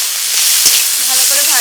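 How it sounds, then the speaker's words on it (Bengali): Chopped tomatoes added to a pan of frying spiced masala for paneer biryani sizzle with a loud, dense hiss throughout, with faint stirring taps underneath. "টমেটোটা দিয়ে দেব।"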